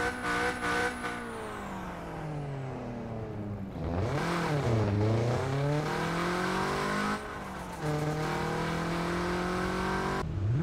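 Nissan Silvia S13 engine in the mobile game Car Parking Multiplayer, revving repeatedly with rising and falling pitch sweeps, loud and close, with short gaps between pulls.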